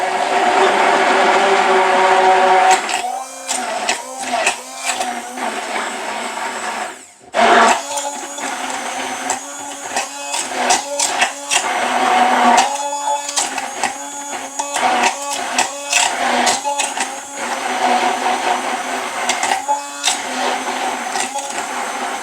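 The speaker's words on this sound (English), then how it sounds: "you're going to take just your immersion blender and stick it right down in there." An immersion blender whirs loudly and close up, starting after a short quiet moment, cutting out briefly, then grinding on with choppy, pulsing bursts.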